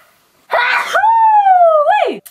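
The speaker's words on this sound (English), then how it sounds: "I'm going to sneeze." A single sneeze indoors: a sharp, breathy burst followed by a long, voiced, wavering cry that trails off, close and loud.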